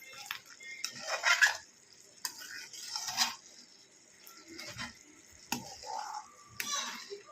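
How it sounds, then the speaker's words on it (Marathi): Thin besan pithla boiling in a pan and stirred now and then, with scattered metallic scrapes and clinks of a utensil against the pan in short bursts amid soft bubbling, fairly quiet and close. "अधूनमधून आपण सारखं असं हलवत राहायचं आहे कारण का खाली लागू नये म्हणून"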